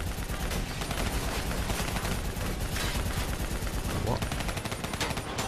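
Continuous heavy gunfire in Black Ops 3, dense automatic shots barely letting up, while a voice briefly speaks over the fight.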